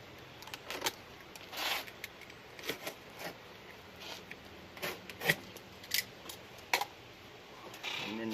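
Excess material is cut away from a restaurant booth seat with short, crisp snips and rustles that come in irregular bursts, close and quiet, against a faint background.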